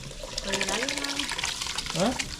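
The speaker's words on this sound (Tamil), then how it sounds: "தண்ணி அரிசி எல்லாம் ஒன்றாவே ஊற்றி வச்சுருக்கேன் அப்படி சேர்த்துப்போம்" Soaked rice and water are poured together into a pot for chicken biryani, a short splashing pour of liquid and grains close by while a person talks.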